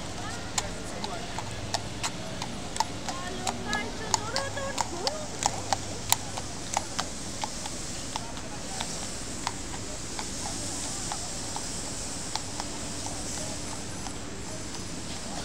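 Steady clip-clop of horse hooves on a hard surface in New York City on New Year's Eve, a regular rhythm of sharp knocks over a broad noisy background with distant voices.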